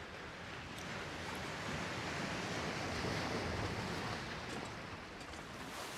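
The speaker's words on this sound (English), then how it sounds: "the sound of the sea is fucking loud" Sea surf in The Long Dark rolls in a loud, unbroken wash of crashing waves, steady and close throughout, with wind mixed in and no voices.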